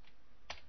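A single sharp keystroke on a computer keyboard clicks once, close and brief, against a quiet room hiss.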